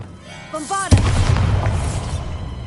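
A spell cast in Hogwarts Legacy sets off a sudden loud blast, preceded by a short spoken incantation; after the boom comes a rumbling tail of debris and crackle that slowly fades.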